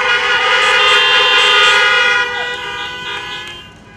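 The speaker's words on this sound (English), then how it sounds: "Let's give ourselves a honk." Several car horns honk together at a drive-in welcome event for a freshman class, a loud sustained chorus of overlapping toots that fades gradually toward the end.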